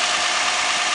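Toyota Aurion with a 3.5-litre 2GR-FE V6 idling under the open bonnet, a steady, even engine hum close to the microphone with no talk over it.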